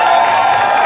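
A live show audience cheers and whoops loudly for a short moment, a dense wash of crowd noise with no single voice standing out.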